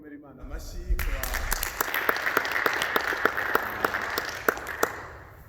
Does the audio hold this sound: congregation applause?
yes